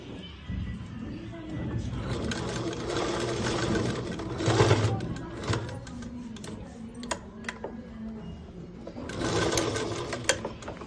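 Sewing machine stitching a school skirt, running steadily at close range with a couple of louder bursts, under ongoing talk.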